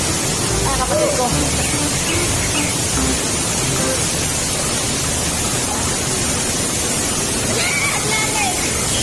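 Constant broadband roar of Mayang Falls waterfall fills the air, loud and unbroken, with people's voices talking faintly under the rushing water.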